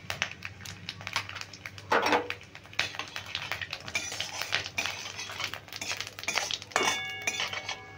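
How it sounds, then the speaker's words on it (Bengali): Dried red chili and whole cumin seeds frying as a tempering in a pan, a light crackle under rattling, clinking scrapes of a spoon against the metal, close and busy. "ফোড়নটা খুব ভালো করে ভেজে নিলাম।"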